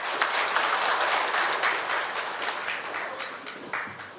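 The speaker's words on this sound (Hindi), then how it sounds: "जोरदार तालियों से हम धन्यवाद दें" An audience applauds at a formal speaking event, with steady, sustained clapping from many hands that gradually thins slightly toward the end.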